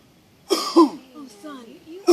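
A person with a cold gives a couple of short, throaty coughs, then a rough, strained vocal sound follows and another cough begins at the end, close and fairly loud against a quiet room.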